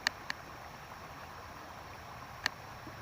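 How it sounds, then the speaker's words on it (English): River water flows over rocks as a faint, steady hiss, with a few sharp clicks. "I hope you can hear the water flowing over these rocks."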